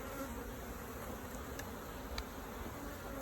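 Honeybees hum softly and steadily around an open hive during an inspection, a continuous low buzz with a couple of faint brief ticks and no voices.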